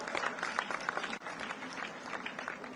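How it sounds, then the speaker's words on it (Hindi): Loud, dense applause from a large audience at a Chief Minister's benefit distribution event in Indore under the Sankalp se Samadhan campaign, steady crowd clapping throughout with a brief dip midway. "ताली तो ऐसी बजना चाहिए जितना बड़ा मैं आंकड़ा बोल रहा हूं।"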